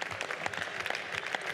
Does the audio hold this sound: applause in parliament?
yes